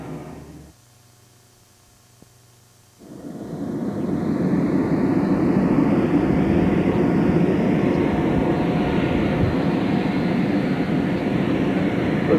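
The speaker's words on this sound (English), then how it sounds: "Navy C-130" Navy C-130 turboprop aircraft at a Blue Angels practice at Moffett Field, 1992, rising from near silence into a loud, steady broadband roar that builds and holds as it passes overhead.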